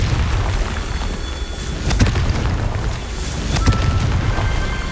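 Confringo blast spell explosions from Hogwarts Legacy sound as deep booming rumbles with a couple of sharp bursts over a constant low roar, loud and close.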